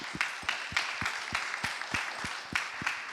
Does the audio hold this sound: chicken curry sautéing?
no